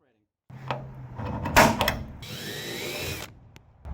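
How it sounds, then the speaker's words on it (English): A power drill bores out the heads of aluminum rivets holding a channel to the shell of a 1949 Spartan Manor trailer, giving short close bursts of whining, grinding drilling. "I'm trying to drill out just the heads of the rivets so I can still pull the channel away without enlarging the holes in the shell"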